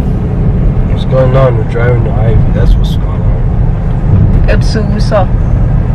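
Steady low engine and road rumble from a moving car on the way to Ivy, running continuously under close, lively conversation from people riding inside.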